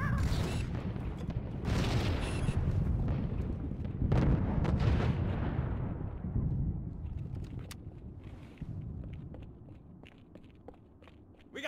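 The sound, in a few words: frag grenade and gunfire in video game Halo 2 Anniversary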